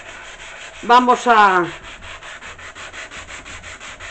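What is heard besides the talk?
sanding wood by hand with sandpaper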